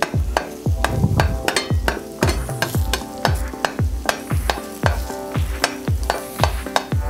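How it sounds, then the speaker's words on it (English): An egg cooking in a pan with mixed vegetables for a cheese omelette, a loud sizzle broken by quick rhythmic scraping strokes of a utensil, about two per second, as the egg is pushed around. "we're just going to move the egg around"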